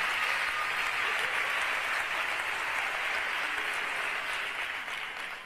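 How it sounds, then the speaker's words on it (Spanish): Steady, full applause from an audience honouring a carnival association at the Córdoba 2023 carnival proclamation, holding dense and even before easing slightly at the close. "un fuerte aplauso para la asociación"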